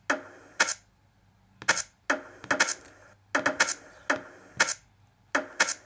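A drum beat programmed in Reason software from custom samples plays as sharp, dry percussive hits in an irregular pattern, sometimes doubled, moderately loud with no talking.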